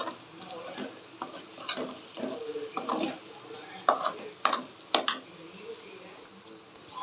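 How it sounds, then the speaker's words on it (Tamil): Egg and pasta mixture stirred in a pan over a low flame, with repeated scraping and clinking strokes of the spoon against the pan, some sharp and close, over a faint sizzle. "இப்போ இந்த அளவுக்கு நல்லா மிக்ஸ் பண்ணி விட்டுருங்க."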